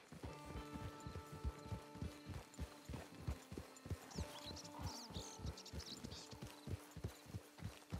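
Steady clip-clop of a horse's hooves walking at an even pace, close by, with no talking, in the video game Red Dead Redemption 2 Online.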